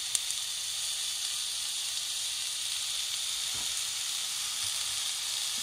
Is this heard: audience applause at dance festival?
no